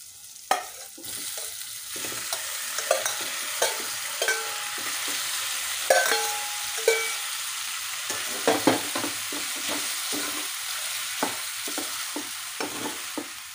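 Cooked pasta stirred into fried tomatoes in a hot pan gives a steady close sizzle broken by frequent scraping knocks of the spoon, continuing for several seconds with no talk.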